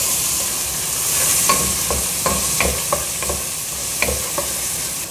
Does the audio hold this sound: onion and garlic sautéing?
yes